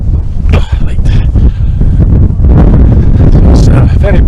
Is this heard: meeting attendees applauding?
no